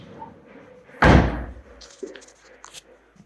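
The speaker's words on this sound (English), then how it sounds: "You can see that door is closed." A door on a repaired door post swings shut with a single loud, close slam, its thud ringing briefly before fading into quiet room noise with a few faint knocks.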